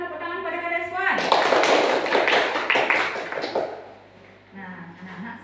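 Children in an Indonesian primary school classroom break into a burst of hand clapping that swells and then fades over several seconds, following a teacher's spoken line.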